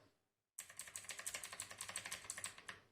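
A Redgear Shadow Blade mechanical keyboard clicks in rapid, even keystrokes after a moment of silence. The crisp clacks are close and fairly quiet and continue steadily for about two seconds.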